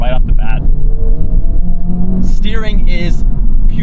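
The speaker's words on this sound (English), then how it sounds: "that shift sound is not disabled" A 2023 Honda Civic Type-R (FL5) engine revs and drones from inside the cabin with a brief gear-shift sound, while someone talks over it.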